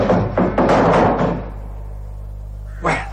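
A heavy door crashes flat off its hinges in a 1981 radio detective drama, a loud cluster of wooden impacts and clatter at the start that fades into a quiet room, followed by a brief exclamation.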